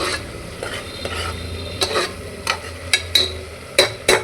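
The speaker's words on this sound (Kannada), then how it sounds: "ಸ್ವಲ್ಪ ಮಸಾಲ ಸ್ಮೆಲ್ ಹೋಗೋವರೆಗೂ ಸ್ವಲ್ಪ ಬಾಡಿಸ್ಕೋಬೇಕು" Masala sautéed in a pan, stirred with a utensil that scrapes and knocks against the metal in repeated strokes growing sharper toward the end, over a quiet sizzle close by.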